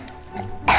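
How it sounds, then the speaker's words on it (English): A young child coughs once, loud and close, a short harsh burst after a moment of quiet room noise while playing a video game. "I didn't make you cough, you did it"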